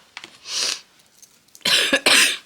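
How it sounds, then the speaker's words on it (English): A person coughs several times in short, harsh bursts, close to the microphone, with brief pauses between them. "Do apologise if I'm sniffing and coughing."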